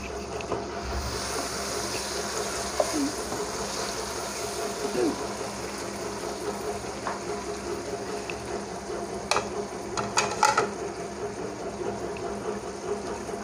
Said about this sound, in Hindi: अब हम इसको ये फ्राई कर रहे हैं, तो चम्मच से हिला रहे हैं